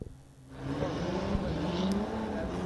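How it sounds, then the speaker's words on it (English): Drift cars warm their tyres at a Balkan Drift Cup event, a steady engine drone with rising revs and faint tyre noise, heard from a middle distance and continuous after a quiet start. "we can start to see some tyres being warmed"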